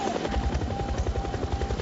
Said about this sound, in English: No, the helicopter kept going. It's flying around the top of the mountain.